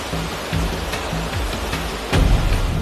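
Heavy rain pouring, with rainwater flowing into a hospital ward in Gandhinagar; a steady, loud wash of broadband noise with a few brief thuds, no voices.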